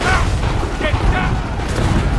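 Cannon fire in the Assassin's Creed III video game, a dense burst of heavy booms and rumbling blasts over about two seconds, loud and close.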